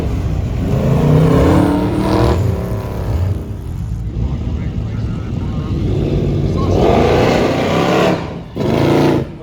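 Hot rod engines rev at a motor racing festival on a circuit, loud and close, rising and falling in long swells with a short burst near the end, while someone talks over them.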